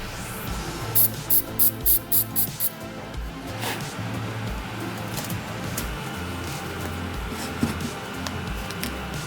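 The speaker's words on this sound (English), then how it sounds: "First, the glue is applied to the Lycra material, then use your finger to help it soak in the tissue and apply an activator." Adhesive activator is sprayed onto glued Lycra fabric for a car interior build in a run of about six short, even spray bursts. A steady background hiss continues after them.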